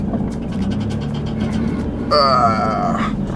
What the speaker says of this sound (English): my fender liner is more terrible than it's been ever. And so that's why you guys heard that noise.